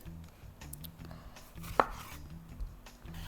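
A knife cuts through a tomato on a board, slicing it for beef shawarma, with one sharp, close chop standing out against quiet kitchen background and no talk.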